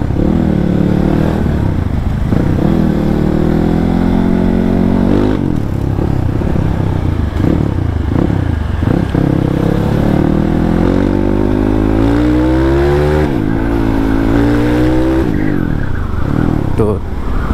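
An Indonesian-made supermoto motorcycle engine revs and accelerates up close, its pitch climbing in repeated surges, with a rider talking over the steady roar.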